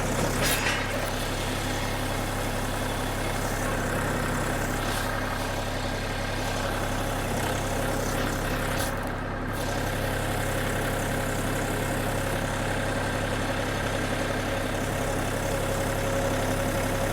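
A Shifeng or Xingtai 240 minitractor engine runs steadily at close range, a constant low diesel drone with a brief dip midway as it drives and steers.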